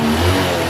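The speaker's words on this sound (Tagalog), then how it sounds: "tahimik na po yung makina" Honda Wave 110 motorcycle engine idling quietly after a tensioner repair, a steady low hum with a faint mechanical whir, close and continuous, no talking over it.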